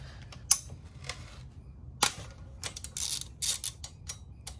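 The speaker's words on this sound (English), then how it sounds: "And now we're just gonna loosen up these guys here." Bolts on the front axle of a Yamaha WR250R motorcycle being loosened with a hand tool, heard as a series of sharp metallic clicks and ratcheting bursts at close range with no talking.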